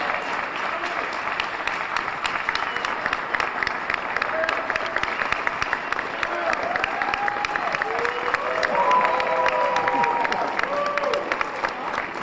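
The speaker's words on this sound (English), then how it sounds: "Please give me a round of applause, a roaring round of applause for Dr." A large audience at a university rural life conference opening session breaks into a long, roaring round of applause, dense steady clapping that swells near the end, with faint voices underneath.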